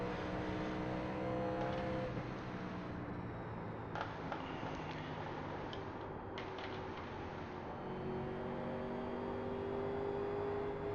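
A steady, droning stock car engine from a 1987 NASCAR race car simulation at Rockingham holds a constant whirring tone with slight pitch shifts and a couple of brief clicks.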